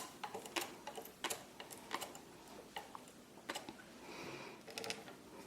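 A circular sock knitting machine being hand-cranked while knitting cat ears, giving a close, uneven run of sharp mechanical clicks and ticks, with a brief steadier whir near the end.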